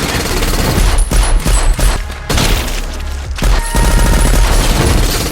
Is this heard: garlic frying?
no